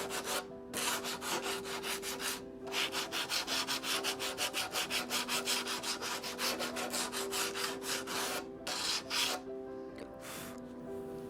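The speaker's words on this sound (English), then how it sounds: "They just needed a bit of sanding." Pre-cut wooden shelves being hand-sanded in a living room renovation, a steady run of close, rhythmic rasping back-and-forth strokes with a few brief pauses, no talking.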